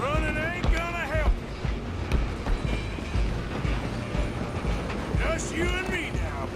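A moving train in Red Dead Redemption 2, a rumbling, rhythmic clatter of wheels and cars running steadily underneath, with horse hoofbeats and people speaking over it.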